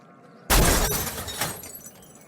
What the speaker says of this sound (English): We can enter by smashing through a window.